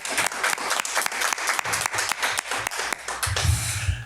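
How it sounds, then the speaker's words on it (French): Applause from the audience at a regular municipal council meeting, clear, evenly paced claps from a modest group filling the room, tapering into a brief voice at the end. "je propose une bonne main d'applaudissements"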